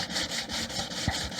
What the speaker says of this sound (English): we're creating a perfectly flat face on the edge of the actual card scraper